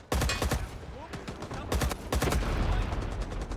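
Rapid machine gun bursts in the Rising Storm 2 video game, loud and close, firing in several clustered volleys with short gaps and a dense rattle throughout, with players talking over the gunfire.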